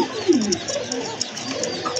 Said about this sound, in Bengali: চপ কোকা ডাকে ভাই